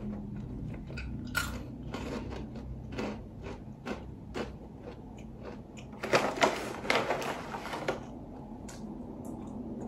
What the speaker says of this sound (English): but I'm munching right now